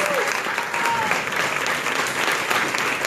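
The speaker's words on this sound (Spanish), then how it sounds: "muchas gracias por los aplausos efusivos." Effusive audience applause fills a festival closing ceremony at night, a dense, loud, continuous roar of clapping from a large crowd.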